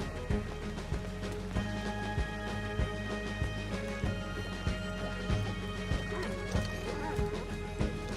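Rhythmic hoof clip-clops and snorting horse sounds from the video game Red Dead Online, over a steady droning background, with repeated thuds at a regular pace.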